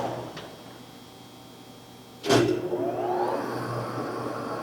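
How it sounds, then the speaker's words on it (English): A Mazak Mark II gap bed lathe runs with its lead screw turning for threading: a steady mechanical hum, then a sharp clunk as something engages, followed by a louder, continuous whirring drone with rising tones, no talking. "We have the lead screw turning, and we are going to engage the half nut, and we're threading."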